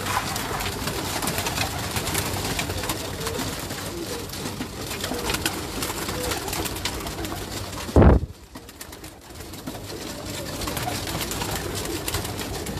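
Pigeons on a rooftop loft coo in continuous low murmuring calls throughout, broken by a sudden loud thump and a brief quieter gap before the cooing carries on.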